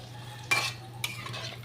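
Cumin, coriander and dried and fresh chilies are tossed into hot oil in a pan, giving two short bursts of sizzling and stirring over a low steady hum.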